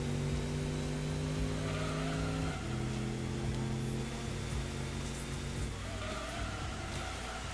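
A 1967 Corvette's engine roars steadily in Gran Turismo 2, holding a sustained drone that drops in pitch at a gear change and climbs again, loud and continuous throughout.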